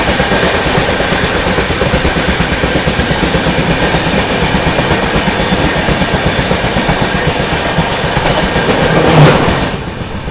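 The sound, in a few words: Gondia–Kolhapur Maharashtra Express train passing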